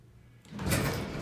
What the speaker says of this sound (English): I think it would be the rear button that opens the door on this floor.